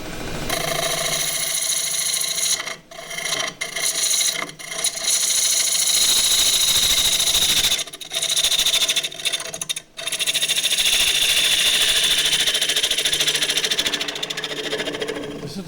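A wood lathe turns a tray while a deep-fluted half-inch bowl gouge cuts, a loud continuous whirring scrape broken by several brief gaps where the tool lifts off the wood.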